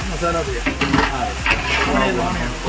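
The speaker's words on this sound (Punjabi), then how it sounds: "ਇਹਨੂੰ ਤੜਕਾ ਲੱਗ ਰਿਹਾ ਹੈਗਾ" Spiced tempering crackles loudly in a pan in a Kerala wedding kitchen, a close, dense sizzle over a low background hum with faint voices in the surroundings.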